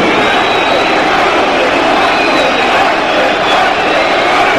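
Crowd at a Leeds United versus Manchester City match at Elland Road roars in a continuous, dense wall of noise as a player is substituted, sustained and loud throughout.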